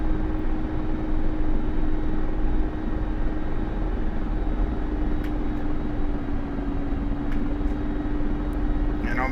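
A Mi-24P Hind helicopter in DCS runs through a takeoff, its turbines and rotor giving a steady, loud droning hum with a constant tonal whine throughout, while someone talks over it.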